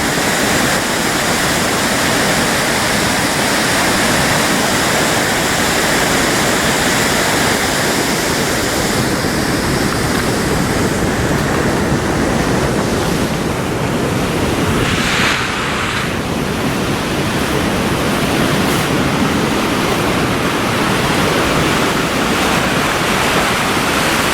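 A loud, unbroken roar of rushing water pouring over Natural Dam, dense and constant throughout, with some wind buffeting the microphone.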